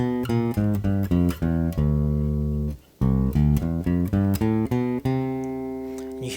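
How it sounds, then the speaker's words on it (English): A jazz instrument descends a half-whole diminished scale, voice-led, in a run of clear sustained notes with a short pause midway, played alone and close. "I'm going to now descend on a half-whole diminished scale"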